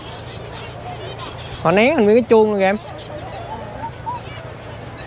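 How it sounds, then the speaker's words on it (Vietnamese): A bird gives loud honking calls, two close goose-like bursts in quick succession at a flower field in Carlsbad, California, with people talking before and after. "Kêu à, chim kêu."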